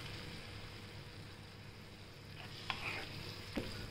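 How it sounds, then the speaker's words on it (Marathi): Grated carrot halwa is stirred with milk poured over it in ghee in a pan, giving a steady low sizzle and bubbling with a couple of brief spoon scrapes near the end, no talk. "हलवून घेऊया."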